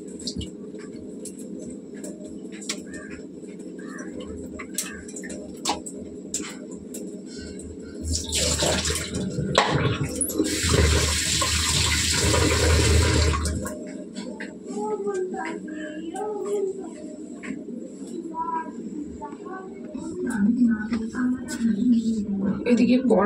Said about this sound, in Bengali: মাছগুলোকে ধুয়ে নেব।